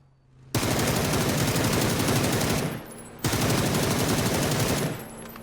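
Gunfire in PUBG on console: two long sustained bursts of rapid automatic fire, loud and close, separated by a short pause, with no talk over them.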